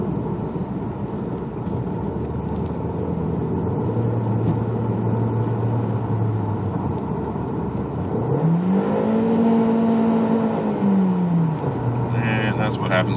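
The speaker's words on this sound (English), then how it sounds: "try to accelerate, it does nothing. It just revs." The 1.8-litre turbo engine of a 2003 Volkswagen Jetta with a slipping drivetrain drones steadily, then revs up sharply to a higher pitch and falls back down without accelerating, heard close and fairly loud.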